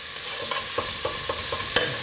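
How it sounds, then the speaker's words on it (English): Bacon frying in a pan over high heat, a loud, continuous sizzle up close with a steady run of light spatula scrapes and taps, about one every quarter second, and no voices. "I do want to fry the bacon to get it nice and crispy more than anything"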